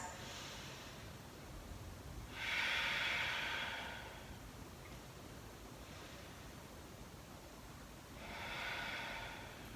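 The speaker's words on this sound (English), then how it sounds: "Two more full deep breaths." Slow, deep breaths during a yoga class, two long breathy exhales rising and fading several seconds apart, soft and airy over quiet room noise.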